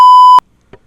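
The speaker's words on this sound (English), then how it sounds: "Beep, otro beep." A censor bleep cuts over speech, a single loud, pure steady tone lasting under half a second that stops abruptly, followed by a faint brief sound after a short silence.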